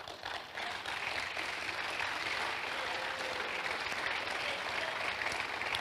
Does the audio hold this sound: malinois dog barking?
no